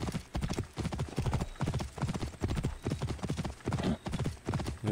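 Horse hooves in the video game Assassin's Creed Origins, a fast, steady galloping clip-clop, close and prominent, with a brief whinny-like tone.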